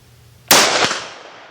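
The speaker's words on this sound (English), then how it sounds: "just do a little shooting down range here." A single sharp, loud gunshot from a Springfield Armory Hellion, a gas-piston rifle fired down range outdoors, with a short trailing echo decaying afterward.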